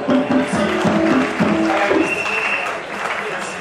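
An audience at a political party anniversary celebration cheers and applauds, a loud crowd roar and clapping beneath an amplified voice speaking over it.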